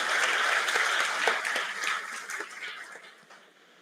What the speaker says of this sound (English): Can you have a round of big applause for our beautiful, wonderful students?